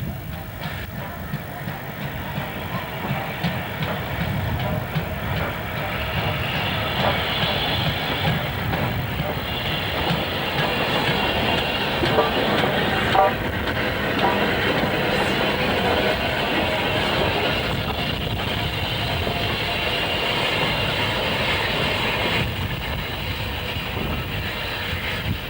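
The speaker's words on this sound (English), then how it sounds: "hauling a Pickering-bound train into the station" Locomotive 45428 hauling a Pickering-bound train into the station on a moorland heritage railway in North Yorkshire, a heavy rumbling roar that builds and holds steady as it draws near.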